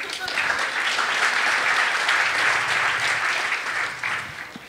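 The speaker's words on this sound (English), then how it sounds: "I think we should clap." A conference audience at a security talk breaks into sustained clapping, a dense mass of hands that rises quickly, holds steady for several seconds and fades out toward the end.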